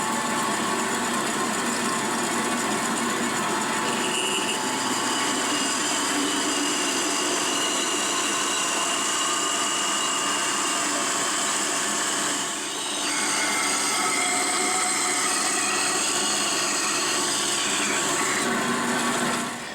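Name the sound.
manual mill cutting metal with coolant off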